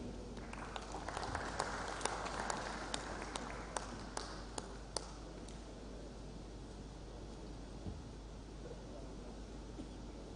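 Audience applause at an international labour arbitration and adjudication forum, dense, steady clapping from a crowd with a few sharper individual claps standing out early, gradually thinning and fading toward the end.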